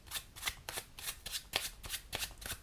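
A deck of playing cards is shuffled by a spectator at a magic demonstration, producing a rapid, rhythmic series of crisp riffling bursts, close and clear with no talking.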